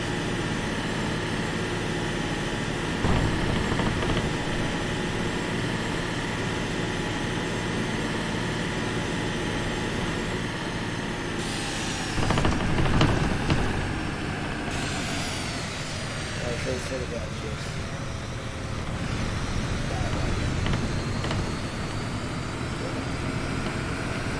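A Skoda 21AB bus engine drones steadily at around 3,000 RPM while driving at almost 70 km/h in the simulator OMSI 2, with a few brief surges under ongoing talking.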